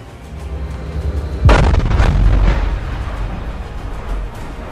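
A sudden deep boom bursts out and rolls into a rumbling, crackling tail that slowly fades over low background noise.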